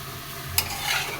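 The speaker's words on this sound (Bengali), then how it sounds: "বেগুন রান্না করব দেশি কই মাছ দিয়ে। বেগুনটা কষিয়ে নিলাম" Eggplant and small local koi fish sautéing together in a pan, a soft steady sizzle with a brief stir clatter partway through, close and alone without talk.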